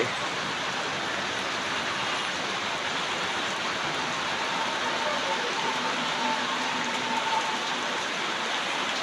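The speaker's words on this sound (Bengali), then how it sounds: "মিরপুরে বৃষ্টি হচ্ছে প্রচুর বৃষ্টি" A downpour in Mirpur keeps up a thick, even roar of rainfall on surfaces nearby, steady throughout, with a faint hint of a passing vehicle and no talking.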